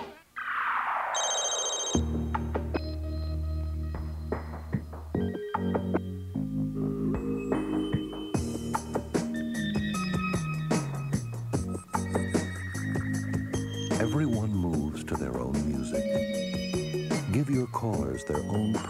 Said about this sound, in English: Their own personal ring, so you can always hear them coming.